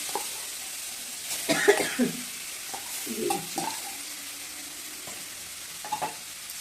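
Olives dropped into hot oil with a five-spice tempering for a sweet-sour olive chutney, giving a faint steady sizzle with a few louder bursts of spatter and stirring scrapes.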